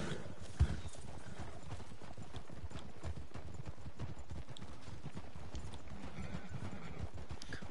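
Steady clip-clop of a buckskin horse's hooves trotting close by in Red Dead Online, with a horse neighing near the start and a busy hum of background noise.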